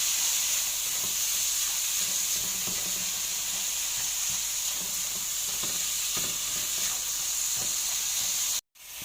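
Onion sautéing over high heat in a pan while cooking Shanghai spring roll filling, a steady bright sizzle and hiss running throughout, close and loud, with a brief dropout near the end.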